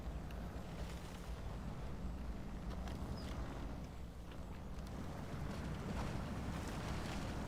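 A Toyota Tacoma TRD 2021 pickup ploughs through water and mud off-road in SnowRunner, giving a steady, dense rushing and sloshing roar that runs unbroken with no talk.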